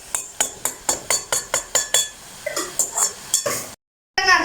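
A spoon stirs coconut vegetable curry in a metal pot, giving a steady run of sharp clinks and scrapes, about two per second, close and loud, that breaks off into a short silence before a final scrape.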